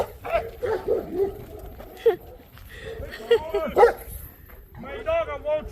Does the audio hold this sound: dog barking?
yes